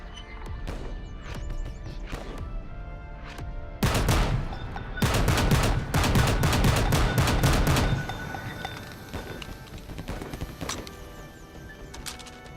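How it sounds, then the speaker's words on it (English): Anti-aircraft gun firing in the World War I shooter game Over the Top: WW1, loud rapid bursts of repeated shots in a sustained volley, with quieter scattered battlefield gunfire before and after. "this is an anti-aircraft gun"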